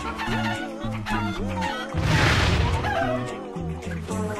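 Cartoonish chicken clucks repeat in a bouncy rhythm in Crash Twinsanity, mixed with game music and a loud crash-like burst partway through.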